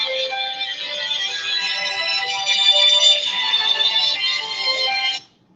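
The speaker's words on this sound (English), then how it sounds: "I got another phone ringing here" A telephone ringtone chirps loudly and continuously for about five seconds, then cuts off abruptly, with no talking over it.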